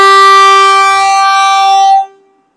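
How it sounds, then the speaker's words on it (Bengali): A Vande Bharat Express train sounds its horn in one loud, sustained, steady blast lasting about two seconds, heard close and alone before it cuts off sharply. "হর্ন মেরেছে, টক টক টক টক টক টক টক।"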